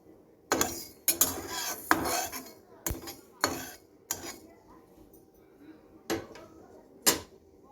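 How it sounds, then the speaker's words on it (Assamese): A spoon stirring half a spoon of black cumin seeds with fenugreek in a pan for a chilli garlic pickle, giving a series of loud metallic scrapes and clinks at an irregular rhythm, close by with no talk. "মই 10-15 ছেকেণ্ডমান লৰাই থাকিব।"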